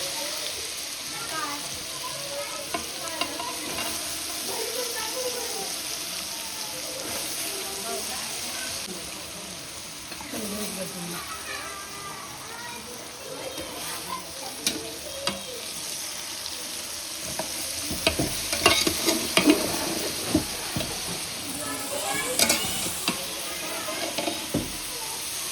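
Chopped vegetables with turmeric and coriander powder fry in a kadhai, giving a steady sizzle with occasional stirring scrapes, while people talk in the background throughout.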